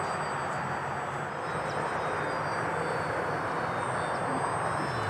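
Small E-flite UMX WACO radio-controlled biplane flying a loop at about half throttle, its electric motor giving a thin steady whine that holds throughout over a broad airy hiss.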